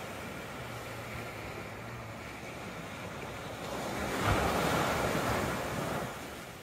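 Water laps against the shore at Latigo Beach at midnight, a soft continuous wash with wind noise that swells into a louder surge partway through, then eases.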